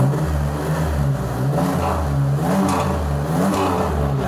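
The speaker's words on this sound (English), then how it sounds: "we can rev it up from here for him." A Pontiac Firebird with a new Flowmaster exhaust system revs steadily up and down in a garage, its deep throaty rumble rising and falling close by, with no talk over it.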